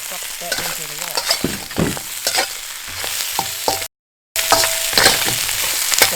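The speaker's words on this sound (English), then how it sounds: "Put all the stuff back into the wok." Dungeness crab pieces and the white part of onion sizzle loudly in a hot wok, with repeated clanking stirs and scraping tosses over a steady frying hiss, briefly cut to silence before resuming.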